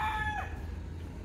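A rooster at a residential estate in Carmona, Cavite, just after Typhoon Ulysses gives one short, fairly loud crow that fades within half a second, leaving a low steady rumble.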